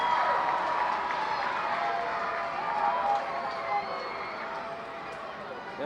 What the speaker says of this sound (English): Crowd making some noise here as well, as I'm sure you can hear from the crowd mic.